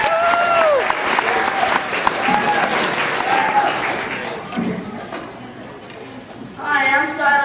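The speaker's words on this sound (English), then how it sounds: "and our first featured author is Siler Stein, so let's give him one more big round of applause." Audience applause for a featured author at a reading event, dense clapping that fills the start and gradually thins out, with a voice speaking near the end.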